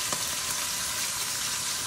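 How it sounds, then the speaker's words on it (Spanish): Tomatillo and habanero salsa ground in a stone molcajete, a continuous gritty, wet scraping that is fairly close and steady, with no talk. "Yo aquí me lo molo aquí en el molcajete porque en la licuadora no se mole muy bien"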